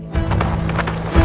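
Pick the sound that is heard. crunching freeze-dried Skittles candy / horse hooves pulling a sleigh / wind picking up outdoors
horse hooves pulling a sleigh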